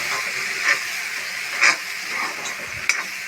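Mustard paste and potatoes fry in hot oil, giving a steady hiss and sizzle with a few brief bursts of louder spattering, close by and with no voices.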